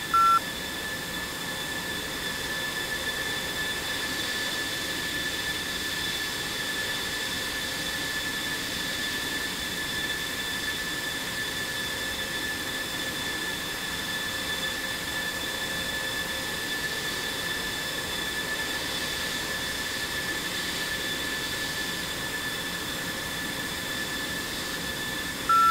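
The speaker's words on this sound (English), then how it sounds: "I will stop my motor" F-16 Viper fighter jet engine giving a steady, loud whining roar with high-pitched tonal components, holding constant throughout with no pauses.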